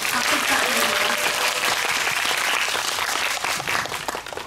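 An audience claps at a special film screening Q&A for the movie 'Escape', a thick, close burst of applause that holds steady and then thins slightly toward the end, with a voice briefly audible early on.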